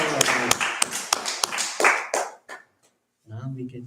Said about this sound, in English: Prabhu, everybody clap for five.